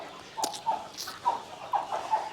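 Country chickens in a village shed give short, clucking calls several times at close range over a quiet background.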